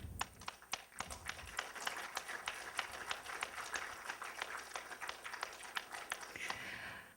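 Audience applause after a doctor's opening remarks at a patient-focused clinical event, a moderately distant patter of many hands clapping steadily for several seconds, with scattered sharper claps standing out.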